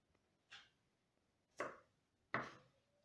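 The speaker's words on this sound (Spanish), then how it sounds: "Así vamos a picar la cebolla pequeña y el ajo chiquito." Three separate knife strikes on a cutting board, evenly spaced about a second apart, as onion and garlic are finely chopped for chicken empanadas; close and fairly quiet, with no talking.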